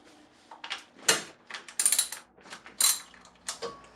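A ratchet loosens 10mm nuts on the cylinder head of a 2008 Acura MDX, giving quiet bursts of quick clicking strokes with small metallic clinks in between, close and without talk.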